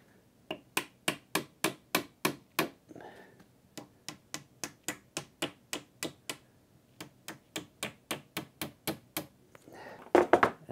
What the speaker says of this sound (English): take the hammer